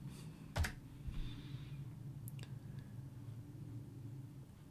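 A few sparse, faint keystrokes on a computer keyboard click over a low background hum, then the typing trails off.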